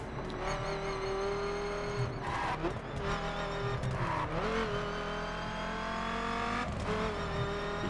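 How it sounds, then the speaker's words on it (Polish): Steady, loud engine drone of a track car accelerating in the racing video game The Crew on PC, holding one continuous revving tone with brief shifts in pitch and faint tire noise throughout. "Jezu, słuchajcie, jak ten samochód bosko przyspiesza."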